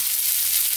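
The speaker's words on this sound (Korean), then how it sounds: "밀가루를 발라서 갈치나 생선을요, 튀기거나 굽거나 하시면" Flour-coated hairtail fish fries in a pan with a steady, close, loud hiss of sizzling oil that runs unbroken through the short moment, with no voices.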